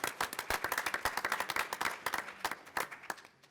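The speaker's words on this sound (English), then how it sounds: "let's give him a round of applause" A small audience at a conference applauds, with distinct individual claps rapid and close together, fairly light, tapering off near the end.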